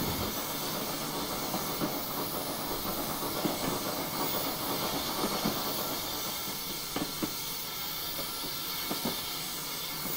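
Steam locomotive hissing steadily in Train Simulator 2016, a 14xx tank engine on the 1950s Riviera line, broadband hiss throughout with faint clicks and rail noise, no talk.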